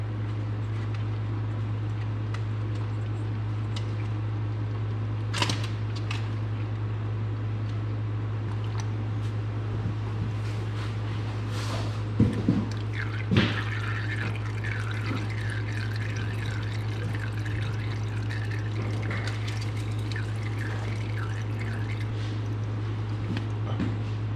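Engine oil draining from a John Deere 1023E tractor in a shop, a steady trickling pour of liquid beneath a constant low hum, with a few scattered clanks and taps.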